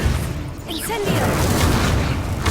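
A fire spell is cast in Hogwarts Legacy, giving a deep booming burst with crackling, whooshing flame that rumbles on for a couple of seconds. A voice calls out over the blast.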